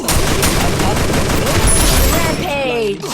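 Dense rapid gunfire in the video game Free Fire, loud continuous shots packed together for nearly three seconds, then a brief tail with a tonal effect.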